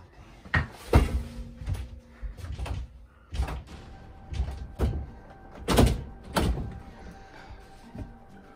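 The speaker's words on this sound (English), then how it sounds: "Why is the door locked from the frickin' inside?" Someone tries a door locked from the inside, producing a series of close, irregular thuds and rattling jolts spread over several seconds, with no talking.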